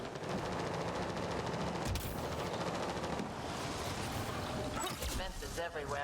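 Enemy gunfire rattles in Mass Effect Andromeda, dense bursts of automatic shots crackling continuously over ambient battle noise, with voices speaking briefly near the end.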